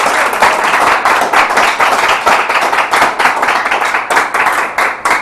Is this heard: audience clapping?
yes